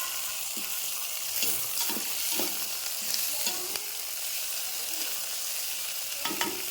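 Chopped onions and green chillies fry in oil in a pan for upma, a continuous bright sizzle broken by soft scraping stirs of a spoon at close range.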